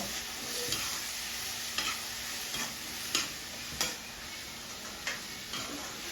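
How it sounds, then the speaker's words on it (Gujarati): Tomatoes frying in oil in a vegetable curry on a desi clay stove, a steady hiss with a row of sharp, evenly spaced stirring clicks from a spoon, close up and without talk. "જો હવે ટામેટા નખાઈ ગયા સબ્જીમાં"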